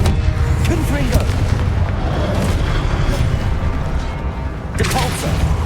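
Confringo fire spell blasts in Hogwarts Legacy, heard as loud booming impacts during combat, with sharp bursts around 1 and 5 seconds over a continuous, dense rumble of game noise.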